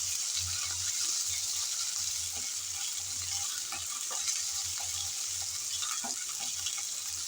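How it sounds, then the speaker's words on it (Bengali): Ginger and garlic fry in a pan with a continuous bright sizzle, broken by occasional soft clicks and stirring scrapes, close and fairly loud with no voices. "এখন নেড়ে চেড়ে ভালোভাবে আদা রসুনের কাঁচা গন্ধটা চলে যাওয়া অবধি ভেজে নিতে"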